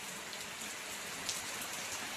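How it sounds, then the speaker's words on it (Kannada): Heavy rain of the season's first downpour pours down as a dense, even hiss that stays steady throughout, with no voices over it. "ಮಳೆ ಎಷ್ಟು ಜೋರು ಮಳೆ, ಅದು ಸಹ ಗುಡುಗು ಸಿಡಿಲು ಎಲ್ಲ ಬರ್ತುಂಟು."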